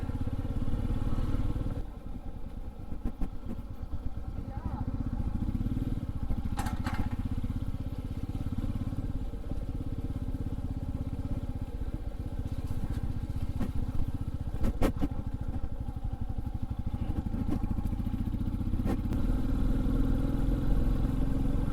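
A motorcycle rides along a road in Kashmir toward Pahalgam on the Amarnath Yatra route. Its engine drones steadily and close by for the whole stretch, with wind buffeting and occasional bumps and no talk.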